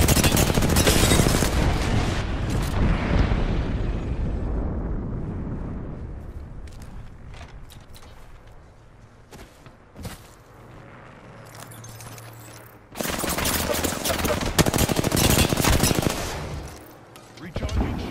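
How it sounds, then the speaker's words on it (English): Airstrike explosions and rapid gunfire in the video game Apex Legends, a dense loud barrage of booms and shots at first, thinning to scattered fire, then another heavy burst near the end. "Heads up, we got an airstrike on us."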